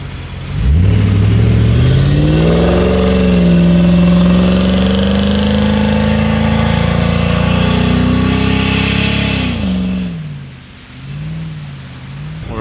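A 4WD in auto sand mode with traction control off powers through soft sand, its engine revving hard and loud, climbing in pitch and holding a steady strained drone before easing off near the end.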